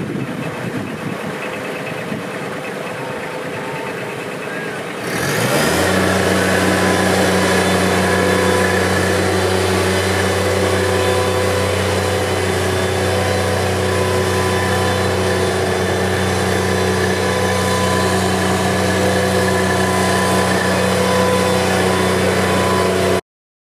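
A Bobcat MT100 compact track loader turning inside a low-profile dump trailer: after five seconds of quiet the diesel engine starts up loud and near, then holds a steady droning idle with a low hum to the end.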